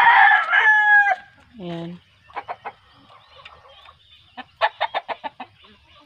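Native chickens, hens now laying eggs, sound close by: a loud crow-like call opens, followed by a low squawk, then a quick run of short, sharp clucks. A single voice speaks briefly.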